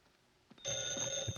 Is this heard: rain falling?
no